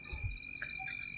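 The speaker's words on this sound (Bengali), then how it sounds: "শুধু ঝিঝি পোকার ডাক শুনতে পাচ্ছ।" Crickets chirping at night among trees in the countryside: a steady, shrill, continuous trill at moderate distance with no voices, plus a faint low thump near the start.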